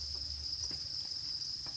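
White-breed crickets about 40 days old on a cricket farm, chirping in a steady high continuous trill up close, with a few faint soft clicks.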